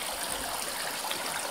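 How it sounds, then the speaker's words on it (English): The Bear River after an April rain, a powerful steady rush of flowing water filling the scene as a loud, even, unbroken roar with no voices. "It's a very powerful river with a good flow."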